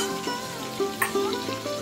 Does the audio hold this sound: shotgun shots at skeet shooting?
no